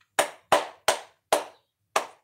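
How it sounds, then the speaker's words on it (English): Five sharp hand claps ring out close and loud at an uneven, slightly slowing pace, each a crisp burst with a short decay and clear silence between. "Look, I'm clapping."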